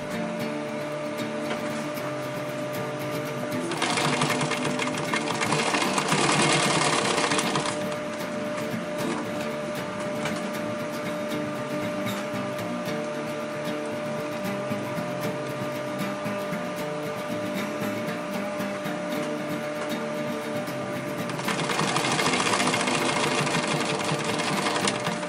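A sewing machine stitches a mesh pocket on an EDC organizer, running steadily with a continuous mechanical hum and two louder, faster bursts of stitching, close and with no voices.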